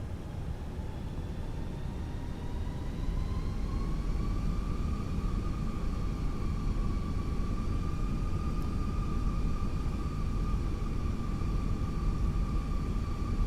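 Fenix A320 jet engines in a flight simulator spool up steadily as the throttles advance, a continuous broadband roar with rising whining tones that climb and then hold, loud and unbroken with no talk over it.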